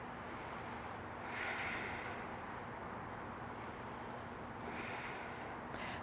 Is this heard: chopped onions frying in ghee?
no